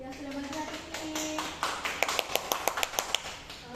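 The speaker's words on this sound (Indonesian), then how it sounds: "Beri tepuk tangan untuk yang sudah mengerti ini." Schoolchildren in a fifth-grade primary classroom break into a short burst of rhythmic clapping, about a dozen sharp claps in steady time, following some chatter and talk.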